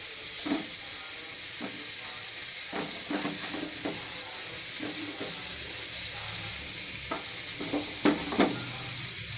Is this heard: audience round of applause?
no